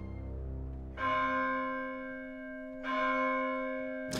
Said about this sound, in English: solemn church bells announce the start of a grotesque witches' Sabbath